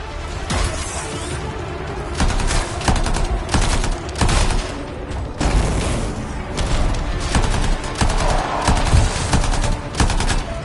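Dense, continuous gunfire from the video game Anthem, rapid bursts and shots layered with crashing impacts, loud and close throughout with no pauses.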